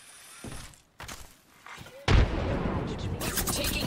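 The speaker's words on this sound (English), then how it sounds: "The enemies are shooting at me." Enemy gunfire in the Apex Legends video game, a few sharp thuds followed by a dense burst of shots, with a voice speaking briefly.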